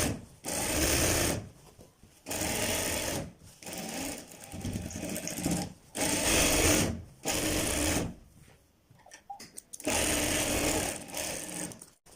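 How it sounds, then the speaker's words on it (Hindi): Electric sewing machine stitching a child's pajamas, running in loud close bursts of steady rapid whirring separated by short pauses, with no speech over it. "सिलाई को डबल कर लेते हैं।"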